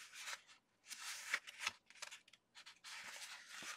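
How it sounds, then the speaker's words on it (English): Paper being creased and folded along a scored line while assembling a mini pocket album from scraps, giving several bursts of crisp rustling and sliding paper, close and moderately loud with short pauses between. "we want to make sure that we are folding on that first line"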